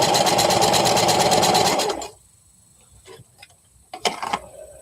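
A sewing machine stitches scrap fabric in a fast, even mechanical rattle for about two seconds, then stops, leaving a quiet room with a few faint clicks and knocks.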